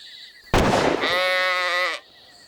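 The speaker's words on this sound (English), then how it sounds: "That was a sheep." A single sheep bleat, loud and close, a strong wavering cry lasting about a second and a half after a sharp onset, set against quiet night ambience in the Australian outback.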